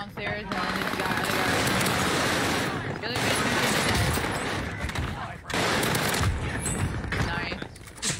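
Video game gunfire rattles in rapid automatic bursts separated by short pauses, loud and close, with a player talking over the shooting.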